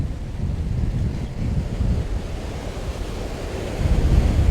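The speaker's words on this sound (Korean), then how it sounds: "파도가 너무 세고" Strong ocean waves surge and break against a rocky shoreline fishing spot at Cape Banks, Sydney, a continuous heavy roar with wind buffeting the microphone and a louder swell building near the end.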